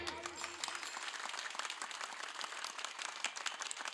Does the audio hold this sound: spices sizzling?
no